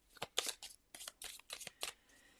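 A deck of playing cards is shuffled in a series of quick riffling bursts, about seven crisp flurries close to the microphone, then quiet at the end.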